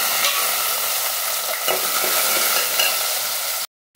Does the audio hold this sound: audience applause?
no